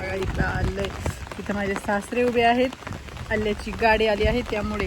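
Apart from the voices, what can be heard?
heavy rain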